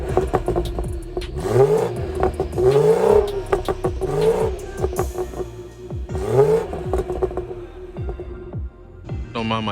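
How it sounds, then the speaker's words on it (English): A car engine with dual exhaust, in Sport Plus mode, revs repeatedly, each rev climbing sharply and falling back to a steady idle, loud and close. "Let's hop out and give it some revs, see what it sounds like."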